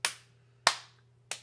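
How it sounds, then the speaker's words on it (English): Three single hand claps keep a slow, even beat for a children's music class. Each clap is sharp and close, with a short decay, and nothing plays between them. "I need you to clap them together. Because I'm playing the guitar and I need somebody to keep the beat."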